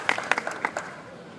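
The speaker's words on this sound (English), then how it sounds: "I'd like for y'all to give a round of applause to his wife, Teresa" Audience applause for Merle Haggard's wife Teresa at an honoring event in Texas, a few sharp, sparse hand claps standing out in a short, quiet burst that fades away.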